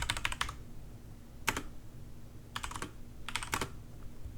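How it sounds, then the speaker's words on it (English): Typing on a mechanical keyboard beside an Elgato Wave, Blue Yeti or Maono AU903 microphone: short bursts of rapid clacky keystrokes separated by pauses, close and clear. "Okay, and now I've got my mechanical keyboard over here."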